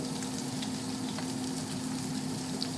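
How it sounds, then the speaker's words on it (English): Onions fry in a pan on a high-heat burner, a steady close sizzle with a faint hum underneath and no talk. "we're going to chuck the onions in the pan"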